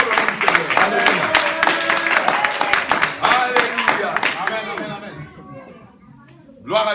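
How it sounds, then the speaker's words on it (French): A church congregation claps and acclaims the Lord, a dense patter of hand claps mixed with loud cheering voices that thins out and fades near the end before one last burst. "Acclamons très fort le nom du Seigneur."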